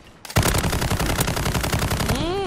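Sustained automatic gunfire from the JAK Protean RAAL MG light machine gun in Call of Duty: Modern Warfare, a loud rapid burst of dense shots starting after a brief quiet moment and running nearly continuously, ending with a rising whine.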